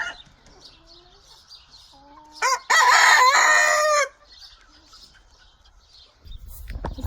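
Backyard chickens cluck softly before a rooster lets out one loud, close crow lasting over a second, followed by quieter clucking and a rustling thump near the end.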